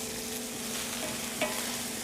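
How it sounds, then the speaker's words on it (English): Leeks and onions with toasted fennel seed sizzling and frying in a pan, a steady close hiss with faint stirring scrapes throughout. "I'm going to throw in the leeks and onions."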